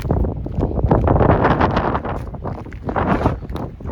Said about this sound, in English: And there's just a gust of wind right now.